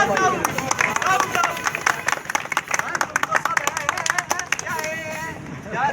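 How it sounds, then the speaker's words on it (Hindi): Audience clapping in a crowd, with sharp hand claps forming a steady patter throughout and voices mixed in the background. "तालियां बजा रहे हो"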